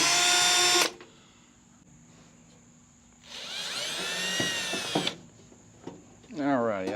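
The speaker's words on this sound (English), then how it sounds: "so now we're going to take the side screws, take 2 of them off" A power driver backs side screws out of an old Traeger pellet grill: a loud whirring burst, a quiet pause, then a second longer high whine, ending with a brief bump of noise.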